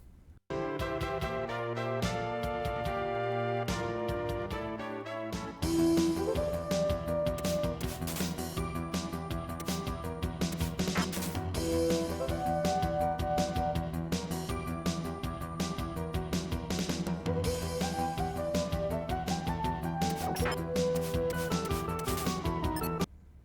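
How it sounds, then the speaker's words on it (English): Zeliard game music plays from a PC through a Roland MT-32 synthesizer: a sparse melodic opening gives way to a full, steady synthesized arrangement that fills the whole stretch, with no talk. "Let's say I start with my PC and play Zelyard through the MT-32."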